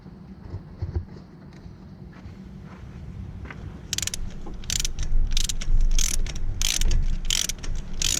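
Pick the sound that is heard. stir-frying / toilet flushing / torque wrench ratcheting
torque wrench ratcheting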